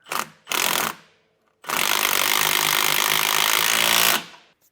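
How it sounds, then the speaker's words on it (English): A 19mm wrench and socket snugging down suspension bolts on a leaf spring suspension kit, with two short power-tool bursts followed by one longer sustained run, loud and close. "we're just going to take that same 19mm wrench and socket and snug these down"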